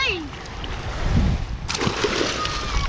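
A splash as a person front-flips into the water at a beach in Sodus Point, New York, a single burst of spray and sloshing close by, with voices talking over it.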